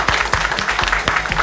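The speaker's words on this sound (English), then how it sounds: "Let's give them a round of applause" An audience applauds two students presenting a video game product bound for Nationals, steady dense clapping filling the short span on its own with no talk.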